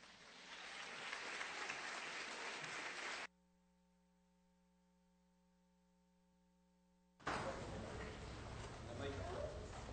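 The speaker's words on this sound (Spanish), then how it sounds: "les pido un fuerte aplauso para recibir a Miguel Alberto Delgadillo Ibarra" A crowd at a speaking competition applauds to welcome a speaker, with strong clapping at the start, a sudden gap of near silence with only a faint electrical hum, then loud applause again.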